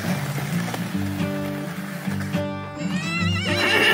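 A horse whinnies loudly at close range in a long, wavering neigh during horse-drawn ski joering outdoors, with steady rushing background noise throughout.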